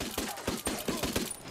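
Rapid pistol shots in the tactical shooter Ghost Recon Wildlands, about eight sharp cracks in quick irregular succession, close and punchy.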